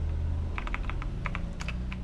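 Trade values being entered on a computer keyboard, a brief burst of crisp, close key clicks in an irregular rhythm over a steady low background hum.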